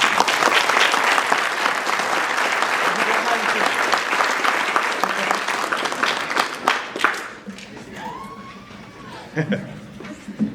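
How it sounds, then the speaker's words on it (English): A high school band concert crowd gives loud, sustained applause for the band directors, with scattered laughter, before it fades into murmuring and a few last claps. "So if everybody could just please give them a huge round of applause"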